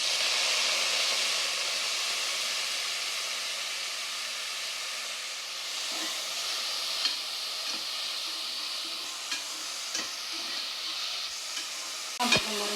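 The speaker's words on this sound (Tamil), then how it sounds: "நாங்கள் கொஞ்சம் நெய் சேர்த்துக்கலாம். கொஞ்சம் ஆயிலும் சேர்த்துட்டேன். புதினா போட்டு" Fresh mint leaves fry in ghee and oil for chicken biryani, with a bright, hissing sizzle that eases slightly over time while occasional sharp clicks and taps of a spoon come near the end.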